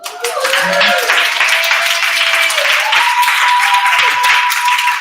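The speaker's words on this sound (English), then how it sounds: "Let's give a round of applause for MK." Audience applause at a women's summit in Washington DC, a burst of many people clapping that holds steady and close, with brief voices and whoops mixed in.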